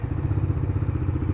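A 2023 Bajaj Dominar 400 motorcycle engine, running on E20 fuel, idles in neutral with a steady, rapid low thumping pulse, close and fairly loud, with no voices.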